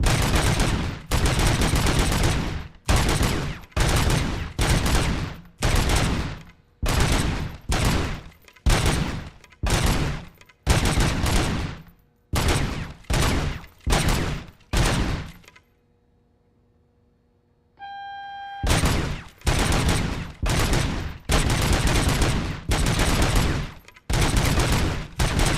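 Full-auto gunfire from a weapon with unlimited ammo in RoboCop: Rogue City, sustained roaring bursts repeating rapidly for long stretches, loud and close, broken by a brief near-silent pause before firing resumes.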